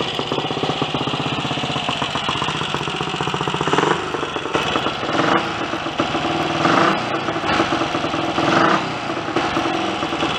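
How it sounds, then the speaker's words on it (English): Royal Enfield Continental 250 single-cylinder motorcycle running after a kick start during recommissioning, a loud steady thumping idle with a few slight rises in revs, close and alone. "give it a few kicks, and lo and behold, it started"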